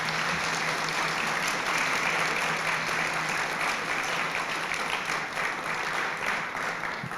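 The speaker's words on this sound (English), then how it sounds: "how about a big round of applause for them?" Audience applause for the staff at a guide dog class graduation ceremony, a dense and steady clapping from a crowd lasting throughout without a break.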